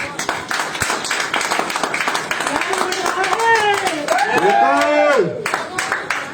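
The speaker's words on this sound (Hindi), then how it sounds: "तालियां बजाएं एक बार जोरदार।" Audience clapping loudly at a celebratory business gathering, steady applause running throughout while a voice talks and calls out over it.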